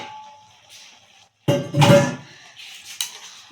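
Carrot halwa cooking in milk is stirred in a pan, the metal spoon clanking and scraping against the pan in one loud clattering burst, followed by lighter knocks, with no voices.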